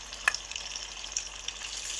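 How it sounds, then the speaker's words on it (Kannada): Sea fish pieces fry in a generous pool of hot oil, giving a steady close sizzle with a few sharper pops and crackles and no voices. "ಮೀನು ಫ್ರೈ ಮಾಡ್ತಾ ಇದ್ದೀನಿ."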